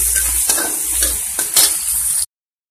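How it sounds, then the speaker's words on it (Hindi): Onions frying in a pan until golden for spicy aloo gobhi, a close crackling sizzle with a few stirring scrapes, cutting off abruptly into silence. "इसको सुनहरा होने तक अच्छी तरीके से हम भूनेंगे ताकि ये प्याज बिल्कुल लाल हो जाए"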